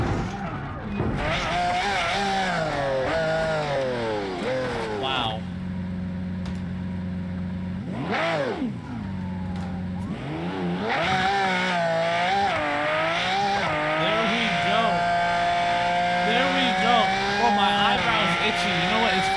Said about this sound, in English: I'm running away from cops. Okay, in an Aventador SVJ 1000 horsepower.